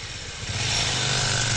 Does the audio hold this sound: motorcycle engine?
yes